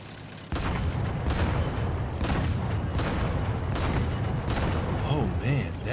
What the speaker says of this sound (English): time for the fire into the main gun